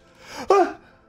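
One sudden, sharp sneeze-like burst from a person in the middle of a video game playthrough session, loud against the quiet room tone and trailing off quickly.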